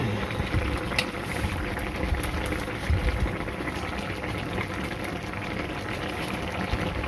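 Fish pieces go into a simmering curry. A steady bubbling and sizzling runs loud and close the whole time, with no clear splash standing out.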